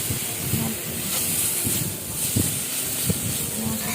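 Masala sizzles and hisses in a pan of oil with red chilli powder for a pabda fish curry, a steady close frying hiss broken by small pops and spatters.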